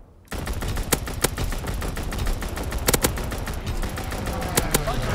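Rapid bursts of gunfire from a strafing run in the World War II video game Call of Duty WWII, sharp cracks repeating irregularly over a dense battle din.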